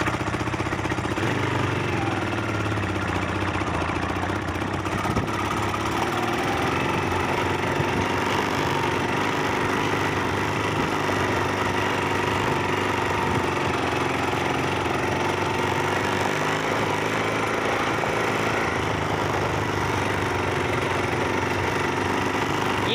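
A Lifan 250 quad engine runs steadily after a clutch replacement, a loud, continuous mechanical drone with a buzzing rattle that holds fairly even throughout, heard close and without any talk.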